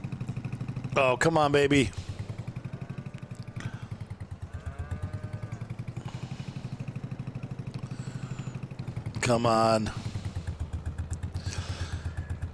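A tractor engine in Farming Simulator 22 in snow, a steady pulsing diesel chug that rises in two brief loud revving bursts, close and continuous, with someone talking over it.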